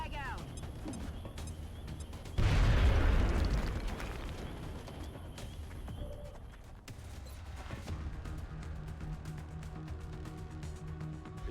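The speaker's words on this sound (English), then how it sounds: "Okay, can the grenade hit it? Yeah. Go, go, go! Frag out." A grenade blast in XCOM: Enemy Unknown bursts in loudly about a third of the way through, a heavy booming crash that decays over a second or two into a steady game ambience, with a voice speaking around it.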